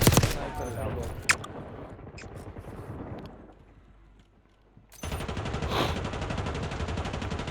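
Rapid bursts of gunfire crackle in a game, with a quieter lull midway before dense shooting resumes; voices mutter underneath.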